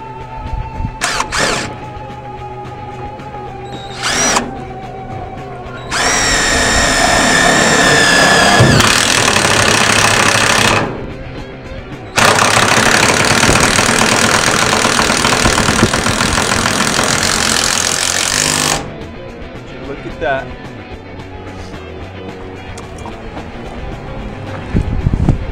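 A power drill pre-drills holes into a portable office container being converted into a workshop: two long, loud, steady whirring runs of about five and seven seconds, separated by short pauses, with quieter handling knocks before and after.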